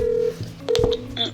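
Telephone dialing tones as a call is placed, a quick run of clear electronic beeps of differing pitch, loud and close with no talking.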